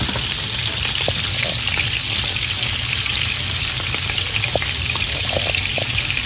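Butter melts and sizzles in a pan while seafood cooks on a grill, a loud, steady crackling hiss with scattered pops, no talk.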